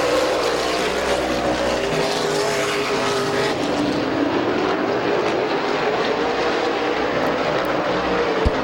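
Race cars on the Midvale Speedway track in a loud, sustained engine roar, several cars blending into a wavering drone with pitch sweeps as they pass, ending on a sharp bang.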